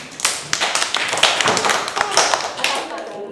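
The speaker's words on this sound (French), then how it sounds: "Applaudissez très fort pour Laetitia." A small group claps for a teacher in a classroom, with sharp, uneven hand claps close by and voices mixed in among them.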